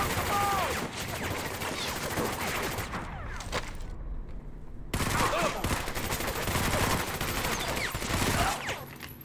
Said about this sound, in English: The heck are you shooting?